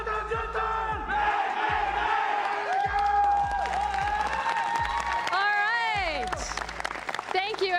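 An esports event crowd shouts in a rhythmic chant with regular stomping beats, then bursts into cheering and whoops, loud and close with voices layered over the pulse.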